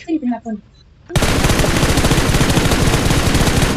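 Rapid automatic gunfire in the PUBG Mobile battle royale game erupts suddenly after a brief spoken phrase and continues as a dense, loud, continuous stream of shots.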